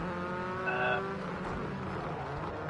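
Rally Fighters race cars launching together off the start line, engines rising in a brief high rev with a tire squeal, then settling into a dense, fairly distant roar of several cars pulling away.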